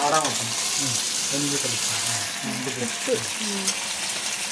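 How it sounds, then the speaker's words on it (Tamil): Green beans and mushrooms sizzle steadily in a pan, a continuous bright frying hiss with occasional stirring scrapes, while a voice talks over it almost throughout. "நீ பாட்டுக்கு வதக்கு"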